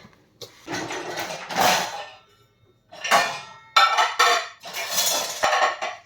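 Dishes and pots being washed by hand at a home sink: steel pans and utensils clatter and scrape in busy bursts, pausing briefly between rounds of scrubbing and rinsing.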